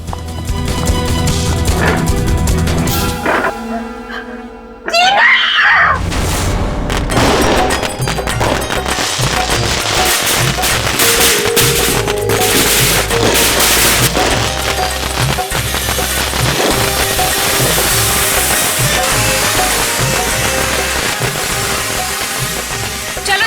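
Firecrackers going off in a rapid, loud string of cracks and pops that keeps bursting nonstop after a brief lull, close by and dense, like a long chain of bangs.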